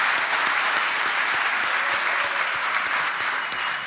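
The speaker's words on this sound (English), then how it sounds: "So I just want to give him a round of applause, man." Dense, sustained applause fills a keynote hall at the Gutter Summit, many hands clapping together in a loud, even wash that barely fades over its few seconds.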